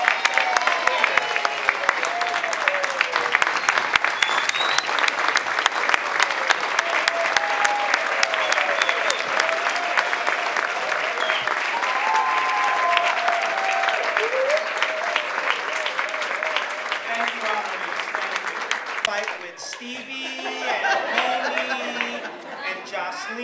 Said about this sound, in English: I would like you please to all stand and give them a proper round of applause.